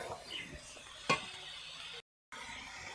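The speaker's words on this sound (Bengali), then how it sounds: "ভালো করে নেড়ে চেড়ে এটা কষে নেব" Chicken biryani fries and gets stirred in a pan, a faint steady sizzle broken by one sharp scrape of the spoon against the pan and a brief dropout of sound.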